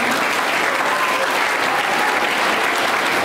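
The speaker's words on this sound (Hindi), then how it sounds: "ये तालियां पनवेल एजुकेशन सोसाइटी के लिए।" A crowd applauds loudly and continuously at a ceremony honouring Panvel Education Society students, a dense, unbroken wash of clapping from start to finish.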